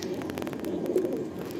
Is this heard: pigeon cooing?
yes